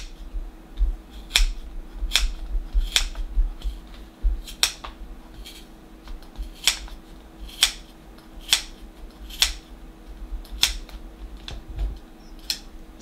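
Crisp scissor snips cutting yarn for a pom pom repeat about once a second, close and steady, over a faint low hum.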